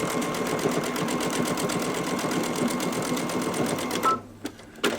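A Babylock or Brother sewing machine runs steadily while stitching decorative stitches, a fast even mechanical chatter up close that stops near the end, followed by a few brief clicks and handling sounds.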